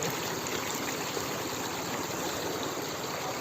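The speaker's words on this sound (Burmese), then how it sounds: "ရေစီးကတော့တန်တယ်ဗျာ" A strong current runs through flooded land, giving a loud, continuous, even rush of water that is close and unbroken throughout.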